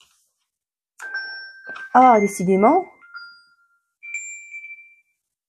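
A phone gives notification chimes: one steady ding early on, then a second higher ding about three seconds later, with a French-speaking voice talking in between.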